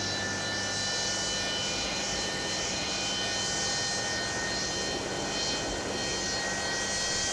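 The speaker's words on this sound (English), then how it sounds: "you can hear that engine now" Steady, loud roar of a Boeing 727-200F jet engine running in Microsoft Flight Simulator, a continuous broadband rumble with a high whine layered on top, holding evenly throughout with no talking.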